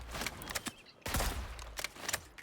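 Black Widow's sniper rifle firing in a video game: several sharp, loud cracks spaced irregularly across a couple of seconds, with one heavier blast in the middle and no talking.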